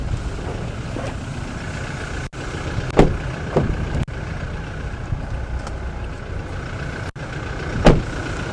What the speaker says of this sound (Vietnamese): Đây là cái tiếng nổ của Fortuner máy dầu